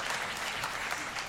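Applause from a church congregation, a steady dense wash of clapping filling the room at moderate loudness, with no talk over it.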